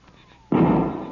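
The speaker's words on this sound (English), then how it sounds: "I could see one of his boys firing from behind a tree behind him." A single sharp gunshot effect from a radio western drama, a loud sudden blast after a quiet moment with a brief rumbling decay.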